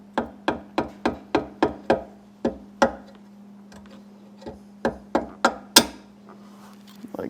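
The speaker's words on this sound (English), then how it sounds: "tap it on with a hammer or whatever" A hammer tapping a part into place under a truck seat, sharp close taps in quick runs of several hits, then a pause and another burst of taps, over a steady low hum.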